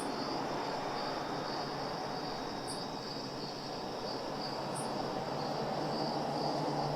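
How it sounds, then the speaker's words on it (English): Chirping crickets trill continuously in the video game Tower! Simulator 3, a steady insect chorus over a soft background hiss, with no voices. "I know we've got the crickets and stuff."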